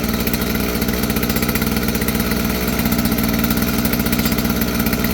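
A Stihl FS46 string trimmer's small two-stroke engine runs steadily at a fast, too-high idle, a loud continuous buzzing drone close by.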